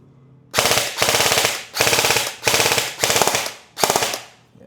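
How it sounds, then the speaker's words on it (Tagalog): An ENC 308 airsoft rifle fired on full auto in six short bursts, each a rapid rattling string of shots separated by brief pauses, loud and close with no talk. "Full auto naman, ito lang yung selector ng full auto."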